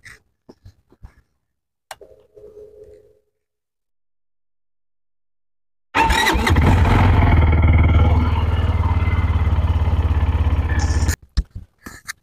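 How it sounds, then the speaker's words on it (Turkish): A Kuba Loncin X-Wolf 300 motorcycle engine starts up and idles loudly, deep and full, steadily for several seconds before cutting off, with a few faint clicks around it. "Tok bir sesi var. Yani 300'lük değil de daha büyük bir motormuş gibi."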